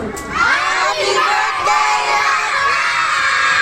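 A large group of children shouts "happy birthday" together loudly and continuously at a birthday party, a sustained cheering roar with no gaps.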